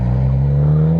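An old Porsche GT3 engine at a cars and coffee show, a loud steady droning rev held close by, rising slightly in pitch over a single second.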